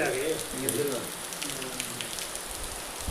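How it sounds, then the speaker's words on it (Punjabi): Steady rain patters on a surface in a village lane, a faint even hiss throughout, with a voice briefly audible at the start. "ਇੱਧਰ ਤਾਂ ਮੀਂਹ ਆ"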